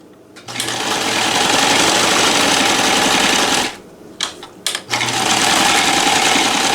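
A NELCO L 400 zig zag sewing machine stitches a blind hem with a loud, close, rapid mechanical whir, pausing briefly for a few short bursts before running steadily again.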